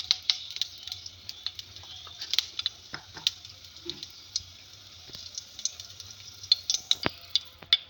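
Clove, cardamom and cinnamon sizzling in hot oil for a Bengali fish curry, a faint, close crackle of scattered pops and ticks over a low hum, irregular and continuous, without speech.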